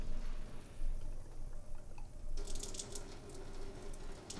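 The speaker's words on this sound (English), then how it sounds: "Water's coming through that brand new membrane." Water trickles through a brand-new reverse osmosis membrane in a GX150 unit, a faint, steady flow that grows brighter and splashier partway through.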